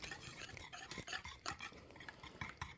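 A utensil stirs German pancake batter in a bowl, giving soft irregular scraping and tapping strokes, faint and close with no voices.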